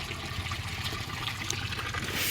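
Water pouring and splashing as buffaloes are watered on a farm, a steady close trickle and gush throughout.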